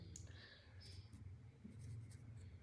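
Pen or marker writing digits by hand on paper or a board during a math lesson, faint, soft scratchy strokes over a low hum.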